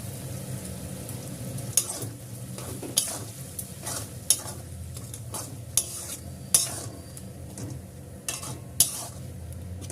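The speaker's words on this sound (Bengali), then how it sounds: "রসুনটা আমার ভাজা ভাজা হয়ে গেছে।" Garlic paste sizzling in oil in a pan for a prawn and potato curry, a spatula scraping and clinking against the metal in irregular strokes over a continuous close hiss.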